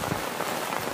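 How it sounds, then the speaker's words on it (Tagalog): Rain falls steadily in Sagada, a dense patter of drops on surfaces that forms an even hiss, moderately loud and continuous over a short stretch. "So yun guys, umuulan."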